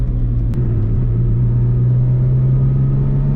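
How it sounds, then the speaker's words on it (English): A Subaru SVX engine heard from inside the car during a gear shift without the clutch, a steady loud low rumble with a droning hum and one brief sharp click near the start. "I did a no clutch shift, so that's why the synchro didn't work"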